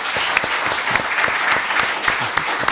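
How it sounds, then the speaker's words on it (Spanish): Applause for the panelists at an academic colloquium, with dense, steady clapping from an audience and a few sharper individual claps standing out close by. "Y yo les pediría un aplauso para los ponentes"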